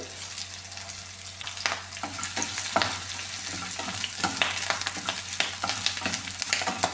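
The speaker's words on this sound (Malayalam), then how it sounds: "ഉള്ളിയൊക്കെ നന്നായിട്ടൊന്ന് വഴക്കിയെടുക്കാം വറ്റൽ മുളക് അതും കൂടെ ഇട്ട് കൊടുക്കാം ഇഞ്ചി കറിവേപ്പിലേത്" Onions, dried chillies and ginger sauté in hot oil, a steady sizzle broken by repeated scraping stirs of a spoon against the pan, close and continuous.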